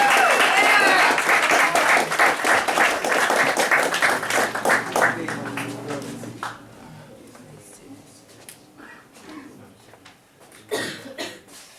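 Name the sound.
audience applause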